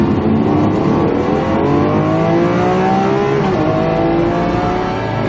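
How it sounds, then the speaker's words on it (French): Lamborghini Aventador SV with a naturally aspirated V12, revving loud and close in a continuous smooth howl that climbs and dips slightly. "Celui d'un V12 atmosphérique. À l'ancienne."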